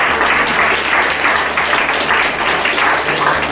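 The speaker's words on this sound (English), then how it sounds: "I think everybody deserves a round of applause" Audience applause at an open mic night, a steady dense wash of clapping from a small crowd, loud and continuous throughout.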